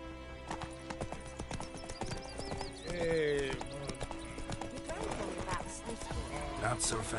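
The horse Roach trots in The Witcher 3, rhythmic hoof clip-clops steady and close, with a whinny partway through and character voices talking over the hoofbeats.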